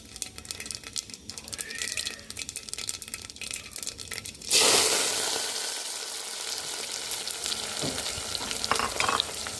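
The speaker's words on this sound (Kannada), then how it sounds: "ಈಗ ನಾನು ಈರುಳ್ಳಿ ಮತ್ತು ಕರಿಬೇವು ಸೊಪ್ಪನ್ನು ಹಾಕ್ತೀನಿ" Onion and curry leaves drop into a hot mustard-seed tempering: a sudden loud sizzle bursts up and then settles into a steady frying hiss with occasional stirring scrapes, following a quieter crackle of popping seeds.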